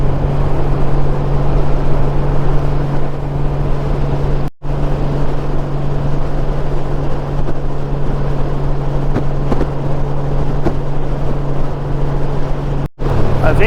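A Honda Goldwing motorcycle cruises along a highway, giving a steady low engine hum wrapped in heavy wind roar that holds constant, with two brief dropouts.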